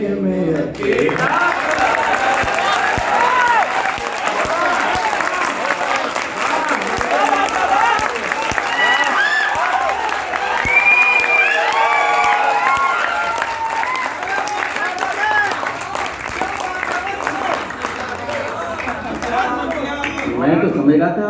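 An audience applauds steadily through a Hindi poetry recital, a kavi sammelan, with dense, sustained clapping at an even level and a few scattered cheers. Indistinct crowd voices mix in under the clapping.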